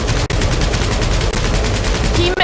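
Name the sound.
gunfire from a video game (Guardians of the Galaxy)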